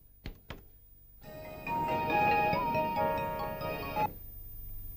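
A telephone ringtone plays steadily for several seconds at moderate loudness, preceded by a couple of sharp thunks, then cuts off abruptly.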